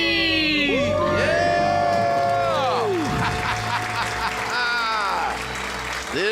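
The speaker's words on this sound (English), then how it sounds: "Let's hear a debt-free scream." A studio audience erupts in a loud debt-free scream and cheering: overlapping shouts and whoops swell at once, then hold as a sustained, close crowd roar with applause for several seconds.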